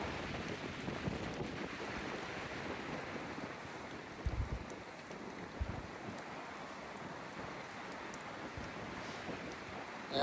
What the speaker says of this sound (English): that wind is really whipping